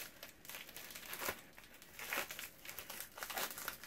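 A subscription box of Mickey Monthly pins is cut open, giving faint, close crinkling and tearing of packaging material in irregular rustling bursts.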